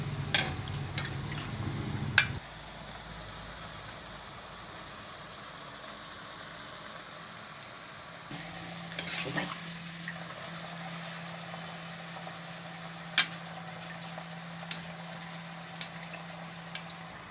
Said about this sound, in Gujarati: તો આ રીતે આપણે બધી તળી લેશું